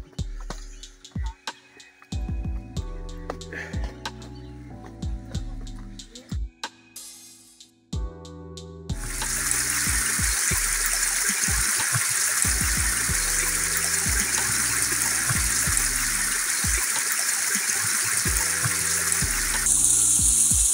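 A mountain stream rushes over rocks on a hillside trail in Margalla Hills National Park, Islamabad, starting with broken splashes and then settling into a loud, steady gush that fills the scene.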